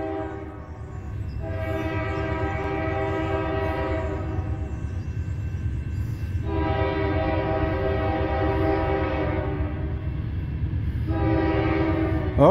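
A northbound Norfolk Southern 200 intermodal freight train rolls past with a steady, loud rumble throughout, while its horn sounds in three long, harmonic blasts.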